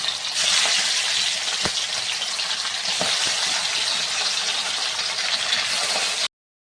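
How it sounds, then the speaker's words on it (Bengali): Hilsa fish fry in mustard oil in a wok with a loud, steady sizzle and hiss that fills the whole stretch, broken by a few faint clinks and taps from a utensil. "আর প্রথমে আমি মাছগুলোকে ফ্রাই করে নেব।"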